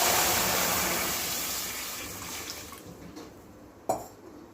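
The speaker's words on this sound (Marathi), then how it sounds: "कढई गॅसवर ठेवलेली आहे त्यामध्ये आपण हे पाणी घालून घेणार आहोत" Water is poured into a kadhai on a gas stove, making a continuous splashing gush that tapers off and ends with a single clear metallic knock.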